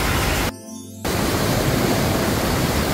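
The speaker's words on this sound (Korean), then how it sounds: "자 폭포 위에서 제가 지금 촬영을 하고 있습니다." Mountain valley waterfall heard from the top of the falls over rock, a loud, constant broadband rush of falling water with a brief half-second dropout near the start.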